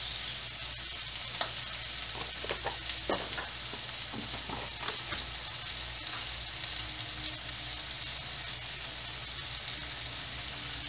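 Chopped maxixe and sausage fry in a pan with a steady, even sizzle throughout, broken by soft scraping and stirring clicks early on, close and continuous.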